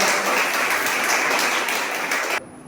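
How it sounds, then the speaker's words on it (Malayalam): Audience at a local public event in Thodupuzha applauding together, a dense, steady wash of clapping that continues for over two seconds and then cuts off abruptly. "മുറുകയ്ക്ക് വലിയ ഒരു കയ്യടി കൊടുത്ത എല്ലാവരും"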